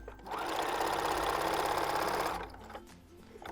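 Sewing machine stitching a pant leg seam for bell bottoms, a fast, even mechanical whir lasting about two seconds close up, then stopping and leaving quiet handling sounds.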